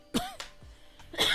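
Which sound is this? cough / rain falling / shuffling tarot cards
cough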